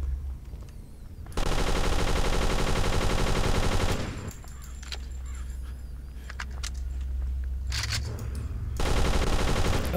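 Rifle fire in the game Zombiewarz rips out in two long, loud automatic bursts, separated by a quieter stretch with a low hum and scattered small sounds.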